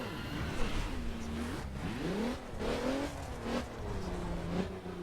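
A Nissan GT-R R35 engine in the racing game The Crew revs hard as it accelerates, its pitch climbing in repeated sweeps between gear changes in a steady, loud drone.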